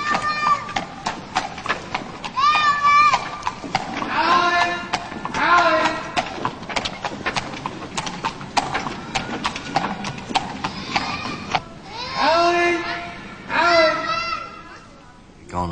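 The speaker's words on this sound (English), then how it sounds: "give way to horse traffic there" Horse hooves clip-clop in a Dublin street in 1983, with many sharp, close, steady hoofbeats and a whinny-like cry under people talking and voices calling out.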